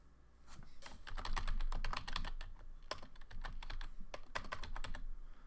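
Fast typing on a computer keyboard up close, a steady patter of crisp key clicks coming in quick bursts with short pauses, with no talking.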